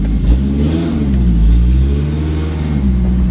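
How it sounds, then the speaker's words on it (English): A cheap Chinese truck's engine revs up and settles back, a loud, close, continuous mid-range roar with rising and falling pitch over about three seconds, no talking. "Definitely revs better than it did before, though."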